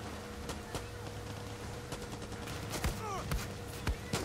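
Scattered gunshots in the Far Cry 6 video game, a few sharp cracks spread across a few seconds against a steady background bed of game ambience.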